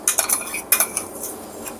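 A spoon stirring cashew paste into boiling water in a metal pot, a quick run of close clinks and scrapes against the pot, alone and fairly soft.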